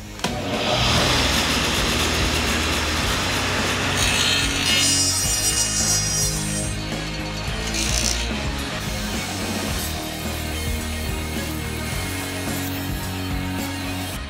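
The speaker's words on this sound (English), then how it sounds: "so I just tilted my stacked dado blade set" Tilted stacked dado blade set on a saw cutting a notch in wood for a firewood shed, a loud continuous whining motor and grinding cut sustained throughout, close and without talk.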